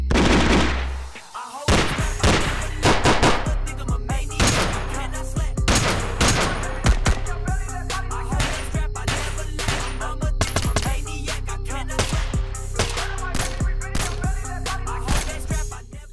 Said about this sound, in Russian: Вот такие звуки дигла